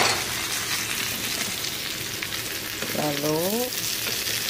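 Onion, bell pepper and fresh mushrooms stir-fried together in a pan, a steady close sizzle running throughout with light stirring; a voice speaks one brief word near the end.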